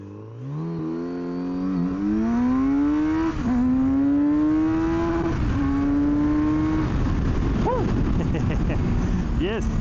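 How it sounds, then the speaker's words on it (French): A 2020 Kawasaki Z900RS motorcycle accelerates hard from a standstill to 100 km/h, its engine note climbing loudly through several gear changes, then easing off near the end, with a rider's voice faintly present. "Ok, c'est parti pour un petit 0 à 100."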